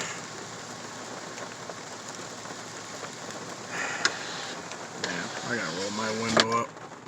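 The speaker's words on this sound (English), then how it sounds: "And the rain calms down and then picks right back up." Rain falls steadily during a severe thunderstorm in northern Van Buren County, Michigan, a constant hiss close by, while someone talks briefly near the end.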